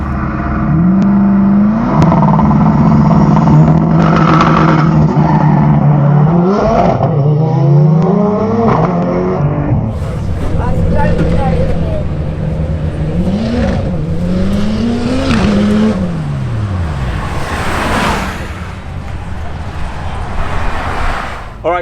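Drag racing over an eighth mile with a BMW N54 car with DCT and a Toyota MR2: engines rev loudly and climb through gear changes, with a car passing close, under heavy continuous engine noise.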